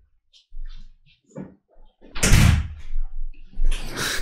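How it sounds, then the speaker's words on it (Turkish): A door is shut indoors: a single loud thump stands out after some quiet speech, followed by softer rattling and a brief second knock as talk resumes. "Şu kapıyı kapatalım mı bir tane?"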